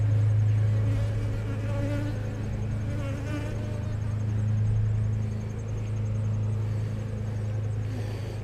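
A steady, close buzzing of many honeybees at an open hive fills the air continuously, a dense droning hum that swells and eases slightly.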